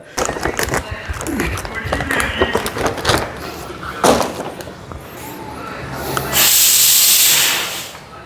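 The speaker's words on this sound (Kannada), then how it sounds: "ಒಗ್ಗರಣೆ ಹಾಕಬೇಕು ಅಂತ ಒಗ್ಗರಣೆ ಹಾಕಿದ್ದೀನಿ" Spices hit hot oil for oggarane tempering while cooking, a sharp loud hiss and sizzle flaring up near the end after clatter and kitchen handling noises, with people talking earlier.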